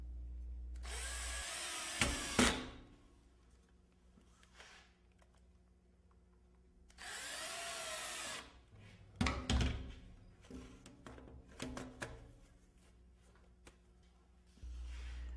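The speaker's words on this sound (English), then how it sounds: "Then add a few screws to the outside edge." A power tool drives screws into hardwood in two loud, whirring bursts separated by quiet pauses, with scattered clicks and knocks of handling between them.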